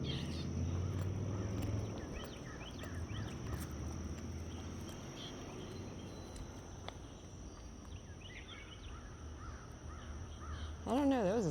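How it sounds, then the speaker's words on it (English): Crow-like caws from a strange-sounding bird ring out several times at moderate distance during an outdoor walk, over faint insect chirping and footsteps, and a person talks near the end. "I don't know, that was a strange sounding bird, Bravo."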